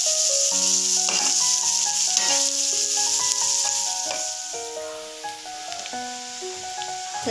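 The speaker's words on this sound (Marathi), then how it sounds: "थोडंसं फ्राय करून घ्यायचं आहे पिंकिश कलर येईपर्यंत" Chopped onion frying lightly in a small amount of oil for spinach soup gives a steady sizzling hiss that sits under prominent background music, with no talking.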